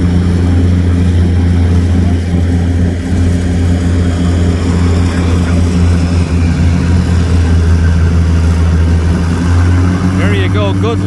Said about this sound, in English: Go, good looking tractor, sounds good.